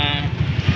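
Goat bleating at a livestock market in Padre Garcia, Batangas: one short, wavering bleat over low background rumble and crowd noise.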